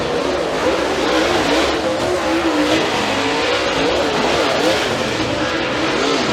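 Super late model race cars roar through the turns at a short-track heat race, a dense, continuous engine drone with shifting pitch as cars pass, loud and sustained with no break.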